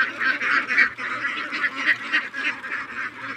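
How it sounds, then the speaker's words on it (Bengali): A flock of ducks honks and quacks continuously and loudly close by, a dense overlapping chorus of calls with no talking. "এই হাঁসগুলো দেখেন"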